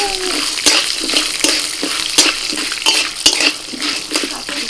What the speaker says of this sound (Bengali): কড়াইতে সামান্য পরিমাণে একটু সাদা তেল দিয়ে দিয়েছি। এবার ওর মধ্যে দিয়ে দিচ্ছি আমি বিউলির ডাল।